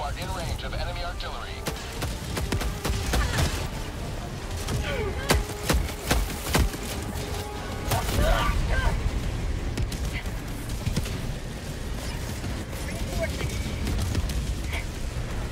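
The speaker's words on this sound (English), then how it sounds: "Mortars, I guess." Mortar strikes in the video game Helldivers 2 explode in repeated dull booms and crackling blasts over a dense, noisy battle soundscape.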